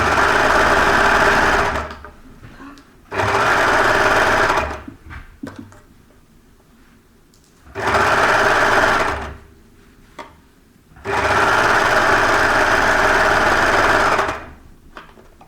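An overlocker serger stitches down a cardigan sleeve, its fast motor buzz coming in three loud sustained bursts separated by quiet pauses with faint handling sounds.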